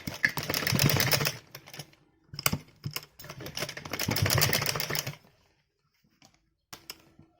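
A sewing machine stitching fabric while making a top, two steady whirring runs of a few seconds each with short stop-start bursts between them, close and fairly loud, then quiet.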